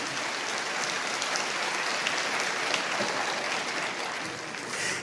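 A church congregation applauds steadily, a dense wash of clapping from many hands at moderate distance that holds evenly for several seconds before easing off.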